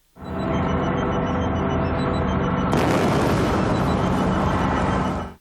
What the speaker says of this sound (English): We have one of the best shots in the show's history as the Doctor walks out of the exploding tent.